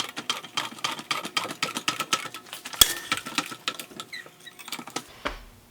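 A breaker bar pushed by a jack pops a bolt loose during a leaf spring install on a 1992 Jeep Wrangler YJ: a run of rapid clicks and taps, then one sharp crack.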